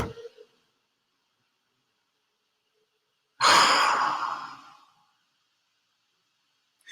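A single slow, deep exhale during a breathing exercise: one long breathy rush of air that swells and then fades over about a second and a half, set in near silence.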